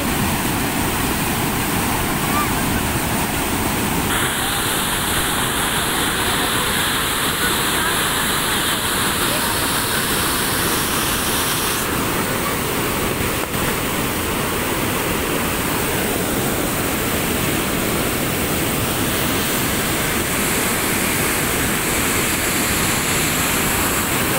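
A powerful, steady roar of rushing water released from an open gate at Angat Dam pours on without pause, loud and close, a dense wash of turbulent flow filling the whole stretch.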